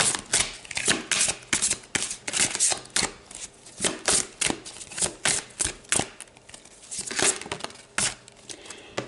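A deck of tarot cards is shuffled by hand in a quiet room, giving repeated crisp riffling bursts and soft papery slaps in an uneven rhythm, close and moderately loud.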